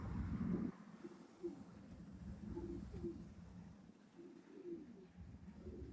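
Pigeons coo outdoors in soft, repeated low calls over a light wind rumble, with no one talking.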